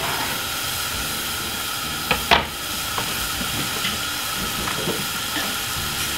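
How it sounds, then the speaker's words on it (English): Onion, spring onion and mixed pepper frying in a pan give a steady close hiss and sizzle, broken by a few scraping clatters as the mix is stirred, with no voices. "Give it a good stir for about 2 minutes. Fry it up about 2 to 3 minutes."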